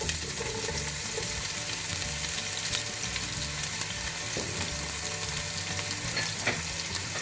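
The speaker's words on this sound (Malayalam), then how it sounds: "പൊട്ടി വരുമ്പോഴത്തേനും നമുക്ക് എടുത്ത് വെച്ചേക്കുന്ന സവോള ഇട്ട് കൊടുക്കാം." Onion frying in hot oil with mustard seeds for a beef curry, a constant close sizzle with occasional crackles and light stirring scrapes, no voices.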